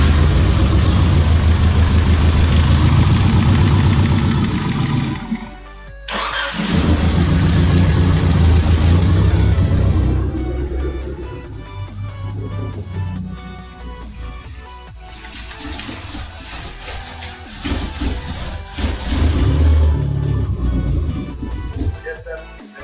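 A rebuilt DSM car engine, started for the first time after a four-year build, runs loud and rough with a misfiring idle. It drops out briefly near six seconds, then roars back with uneven surges and revs, while voices may be present.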